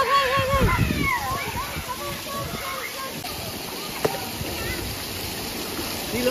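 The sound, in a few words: water rushing and splashing at a water play area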